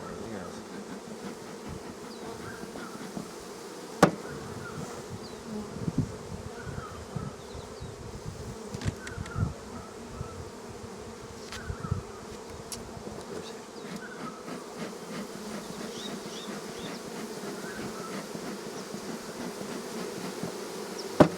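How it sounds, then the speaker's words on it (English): Dense, steady hum of bees swarming around an opened beehive during a hive inspection, a continuous close buzz with occasional louder passes of individual bees near the listener. "There's lots of bees."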